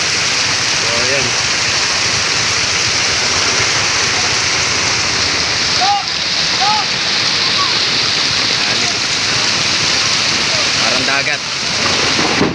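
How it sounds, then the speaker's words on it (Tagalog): Heavy rain pours in a sudden downpour that has flooded the area, a loud, continuous broadband roar of water heard up close throughout, with faint voices under it. "first time lang nangyari yung ganito kalakas na ulan dito na bumaha ng ganito"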